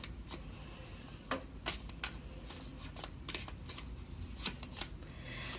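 Tarot cards being shuffled close by, a run of soft riffling flicks and taps at an uneven pace, quiet and with no talking.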